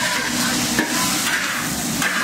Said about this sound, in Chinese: 火烧火泥炒菜